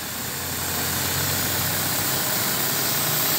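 A WC03 high-pressure washer motor runs steadily, a continuous droning hum with a faint rise in level at the start and no voices over it.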